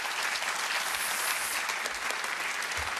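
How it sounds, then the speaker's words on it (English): Studio audience on a TV quiz show applauds a pair of contestants, a dense, even wash of clapping held at steady loudness throughout, with no voices over it. "Give them a round of applause."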